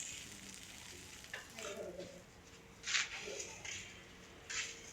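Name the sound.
pointed gourd (potol) frying in a pan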